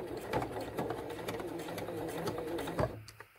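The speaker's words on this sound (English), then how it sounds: "now I'm going to make my second line of stitching" Sewing machine stitching a second line along a zippered fabric tab, a steady mechanical whirring hum with rhythmic needle ticks running slowly and evenly, fading out near the end.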